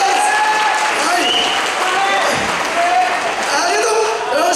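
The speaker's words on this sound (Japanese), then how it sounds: "どんどんですね、お手拍手の方よろしくお願いします" Audience clapping at a live Okinawan taiko drum concert, a dense, steady wash of applause from a crowd that carries on loud and close through the whole stretch, with a few faint whistles or cheers mixed in.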